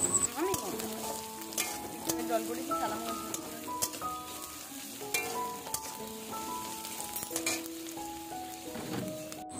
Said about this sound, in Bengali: কড়াইতে তেলের উপরে কারি পাতা আর কাঁচা লঙ্কা ফোড়ন